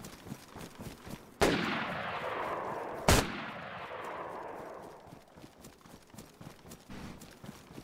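Two sharp gunshots ring out in DayZ, each a loud crack followed by a long fading echo, spaced about two seconds apart over quiet footsteps and rustling.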